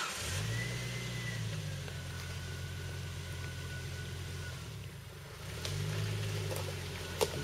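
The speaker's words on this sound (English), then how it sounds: "The Jeep going through the unknown mud hole." Jeep engine revving as it drives through a mud hole while off-roading, a droning rise and fall with a dip midway then a second surge, heard from nearby.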